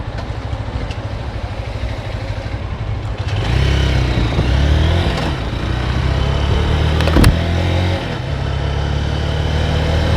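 A Honda CBF190TR motorcycle is ridden through traffic, its small engine idling, then revving up and holding a loud, close drone before easing back, with road and wind noise throughout.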